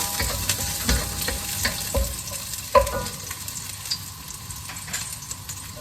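Chopped garlic sizzles steadily in a hot pan while being stir-fried, with a continuous crackling hiss broken by occasional scrapes and clinks of a utensil against the pan.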